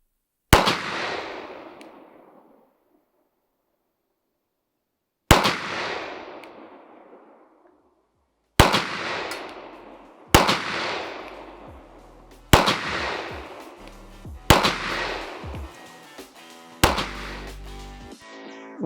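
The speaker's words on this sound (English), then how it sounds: "put some shots at the target, and yeah, it's a very accurate gun, and geez, it's fun to shoot" Seven sharp, loud pistol shots from a Canik SFX Rival-S at a target range, fired singly at uneven intervals, each followed by a long echoing decay.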